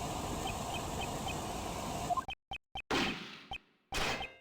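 A gunshot heard within a recording in the video game Ace Attorney Investigations 2: a steady hiss broken by a few short clicks, then a single sharp, loud report with a fading tail, followed by more brief blips.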